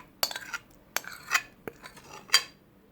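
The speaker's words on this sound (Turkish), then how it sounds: "Yoğurtlu sosumuzu ve köz patlıcanlarımızı karıştırıyoruz." Yogurt sauce stirred into roasted eggplant in a bowl for mütebbel, with a spoon clinking and scraping against the dish in four or five sharp, separate knocks and no talk.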